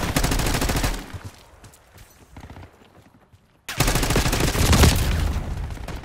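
Ray Gun Mark 20 firing in the video game Black Ops 6: a loud, dense burst of shots, then a brief quieter lull, then another sustained burst of rapid fire.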